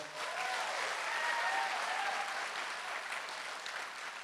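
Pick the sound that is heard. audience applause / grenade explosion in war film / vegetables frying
audience applause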